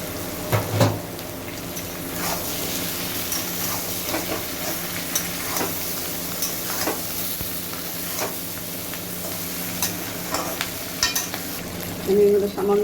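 Chicken pieces tossed into a pan of already-fried capsicum for chilli chicken give a steady close sizzle with repeated stirring scrapes. A louder burst of frying comes near the end, with no talking.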